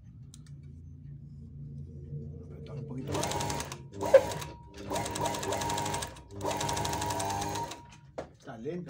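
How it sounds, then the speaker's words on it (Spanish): A Brother industrial sewing machine, stitching loosely and running sluggishly after a knock, whirs in several bursts of a few seconds each, separated by short pauses, above a low background hum. "Sigue cosiendo flojo."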